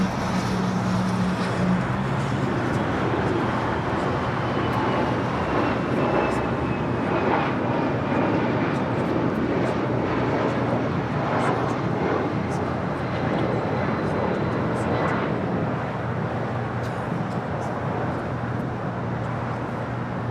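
A large aircraft taxiing onto taxiway Bravo at LAX, a steady engine rumble and whine that stays moderately loud and close, with faint voices under it.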